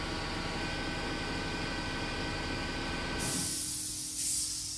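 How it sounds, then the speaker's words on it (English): An air compressor runs loudly beside a tire being mounted without a tire machine, a steady broadband hiss and motor drone that cuts off abruptly about two-thirds through, leaving softer hissing air. "Man, that compressor's noisy."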